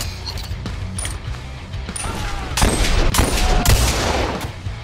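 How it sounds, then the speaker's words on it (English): Gunshots from a weapon in the VR game Boneworks, a string of sharp cracks and heavier blasts with metallic mechanism clicks between them, growing denser and louder toward the end. "This gun is so weird. Maybe that's one of the best sounds on here."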